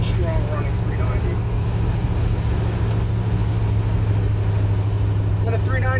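The remanufactured 390 V8 in a 1967 Corvette with a 4-speed runs steadily, a deep, even low-pitched drone that holds constant and close for the whole stretch.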